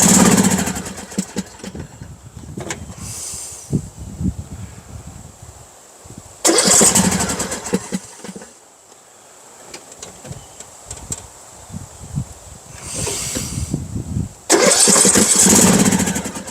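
A lawn mower engine cranks in repeated bursts, each pull churning briefly before dying out, with quieter stretches of fiddling and handling noise between attempts and no clear voices.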